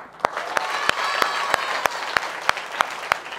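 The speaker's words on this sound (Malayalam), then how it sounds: "അതിന് വലിയൊരു കൈയടി" An audience at a charity stage event claps after a costumed performance, a loud continuous round of applause with sharp, evenly spaced louder claps standing out.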